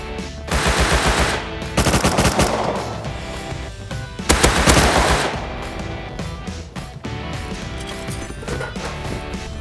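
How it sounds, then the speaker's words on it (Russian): Gunfire from a shooter on a rooftop in the survival video game Rust, rapid loud automatic bursts in several volleys with brief gaps and scattered single shots, no talk over it. "Он с крыши стреляет"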